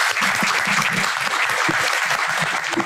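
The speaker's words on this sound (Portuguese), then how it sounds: "eu iria pedir uma salva de palmas aos nossos oradores." An audience at a finance sector lecture in Portuguese applauds the speakers, a dense, steady round of clapping that carries on throughout with no voices over it.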